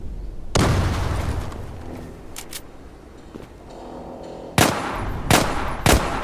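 Explosions and gunfire in the online shooter game Zula, with a heavy grenade-like blast followed by a rumbling tail, then several sharp, loud shots in quick succession near the end, with no talking.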